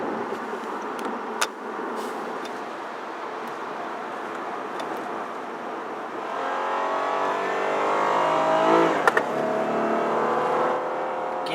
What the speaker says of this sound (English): Strong brakes and a very, very nice tone in the exhaust.